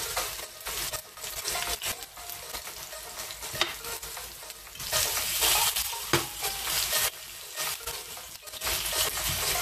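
Lamb pieces sear in olive oil with a loud, steady sizzle that swells as meat is turned, mixed with clinks and scrapes of the pan close by.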